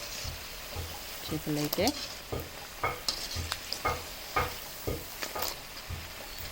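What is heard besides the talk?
fish frying in oil for fish pickle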